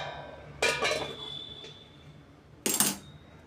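A metal lid is set down over a kadai holding glasses of chocolate lava cake batter, giving two short clattering clinks a couple of seconds apart, close and moderately loud in a quiet kitchen.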